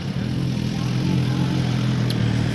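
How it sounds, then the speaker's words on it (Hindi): A sport motorcycle passes along a city street in Lublin, Poland, its engine a loud, continuous mid-pitched roar blended with street noise. "यहाँ स्पोर्ट बाइक हो स्पोर्ट बाइक पुग्यो"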